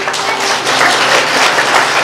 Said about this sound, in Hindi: एक बात ताली हो जाए